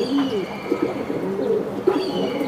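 Racing pigeons coo close by in soft, throaty repeated phrases, several calls overlapping over about two and a half seconds with no talking.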